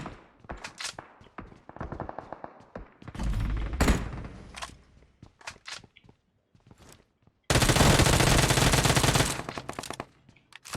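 Loud automatic gunfire in PUBG Mobile, set in Pochinki, with scattered single shots and short bursts early on, then a long dense sustained volley that cuts off abruptly, with no talk.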